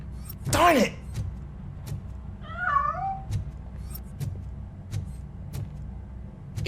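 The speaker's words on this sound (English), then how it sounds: "That cat must be hiding inside." A cat in RoboCop: Rogue City gives two distinct meows, a loud one near the start and a softer one a couple of seconds later, separated by scattered light thumps over a low background hum.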